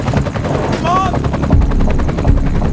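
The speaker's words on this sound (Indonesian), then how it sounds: "sebuah helikopter menjemput Nora ketika sedang merayakan temuan mereka" A helicopter arrives in the film Troll, its rotor thumping as a broad, steady roar under a dense film soundtrack, with a brief whining tone and a couple of low thuds.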